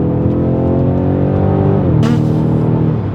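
A BMW M5 Competition F90 sedan accelerates hard, its loud, close engine roaring steadily; around the midpoint the pitch drops with a brief burst of noise as it shifts, then it keeps pulling strongly.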